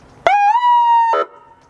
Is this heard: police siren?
yes